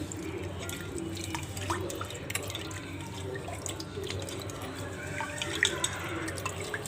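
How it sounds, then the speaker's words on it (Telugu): Soaked tamarind pulp squeezed by hand in a bowl of water for a traditional horse gram soup, giving close wet squelches, drips and trickles over a low steady background. "ఈ చింతపండునంతా మెత్తగా నలుపుకోవాలి"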